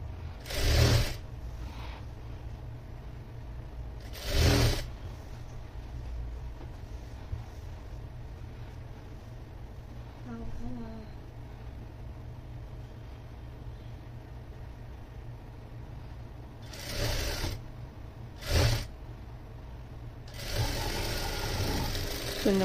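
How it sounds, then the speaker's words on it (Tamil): A sewing machine stitches lining onto a long anarkali frock, a steady close mechanical whir that runs throughout with short louder bursts near the start and end, and a few soft voice sounds in the background. "இந்த மாதிரி நம்ம ஸ்டிச் பண்ணிக்கலாம்"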